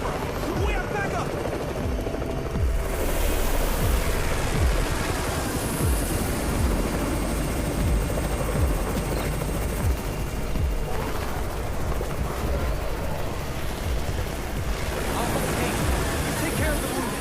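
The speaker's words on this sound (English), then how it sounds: "It's the Raven's chopper!" A helicopter in the zombie-apocalypse video game Undawn, its rotor beating loud and steady throughout, with bursts of gunfire, background voices and a babble of speech mixed in.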